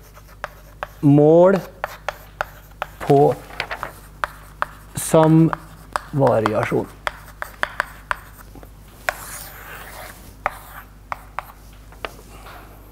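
Chalk or marker taps and scratches on a board during a university lecture, with quick irregular clicks and strokes spread throughout, under and between a man's speech in Norwegian.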